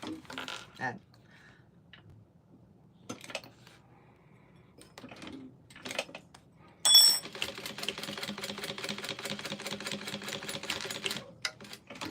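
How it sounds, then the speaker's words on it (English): A sewing machine stitches a shoulder bag closed, running in a steady rapid mechanical chatter for several seconds after sparse handling clicks and rustles, close and clear. "let me sew this back up"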